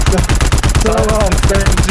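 Dense automatic gunfire rattles in rapid bursts during a cargo-map round of a shooter video game, loud and close, with shouting voices over it.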